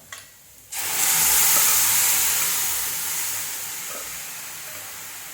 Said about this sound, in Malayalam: ഇനി നമുക്കിതിലേക്ക് ഈ വേവിച്ച് വെച്ചിരിക്കുന്ന മട്ടൻ ചേർത്ത് കൊടുക്കാം